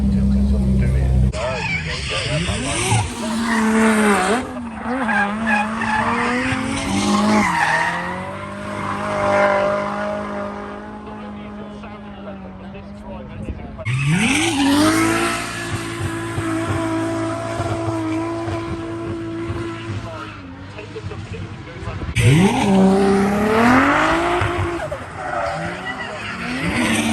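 Drift cars skid and squeal in long sweeping passes around Castle Combe circuit, engines roaring loudly in waves with brief lulls, over a busy crowd-like background.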